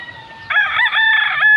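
A rooster crows on a chicken farm in Las Piñas, one loud, near cock-a-doodle-doo call lasting about a second, alone without talk.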